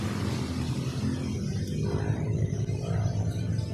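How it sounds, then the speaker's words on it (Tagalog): A steady, low engine rumble drones on without a break, like motorcycles running somewhere at a distance. "malalaki yung boses ng motor"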